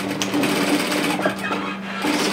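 A sewing machine back tacks the overlapped fabric ends of a one-shoulder top, its needle running in close, rapid bursts with brief pauses as direction changes.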